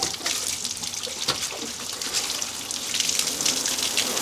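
Water runs and splashes continuously during a car wash, a steady hiss of spray with a few brief drips and spatters, fairly close and without talk.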